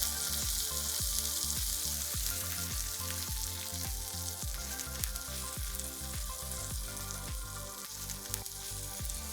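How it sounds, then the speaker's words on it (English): Paneer cubes fry in a hot pan, giving a loud, steady sizzle throughout, with repeated soft knocks and scrapes as the pieces are turned over to brown on each side. "flip them over and cook on another side. Make sure you cook them on all 4 sides."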